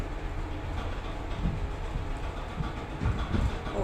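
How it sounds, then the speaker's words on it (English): Fujitec lift in motion, giving a continuous low rumble with rhythmic clattering knocks that sound like a train carriage, steady and close for a few seconds with no talk. "I want to experience the train lift"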